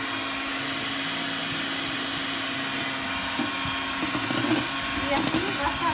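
Electric hand mixer whirring steadily as it beats frothy egg whites while yolks are added a little at a time, a continuous motorized drone with rising intensity toward the end, under someone speaking in Spanish.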